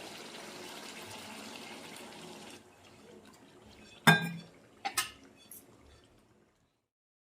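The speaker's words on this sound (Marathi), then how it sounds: "थोडं पाणी ओतून घेते." Water poured into a pot of fish curry cooking with spices gives a soft running splash for a couple of seconds, followed by a few louder clanks and splashes close by.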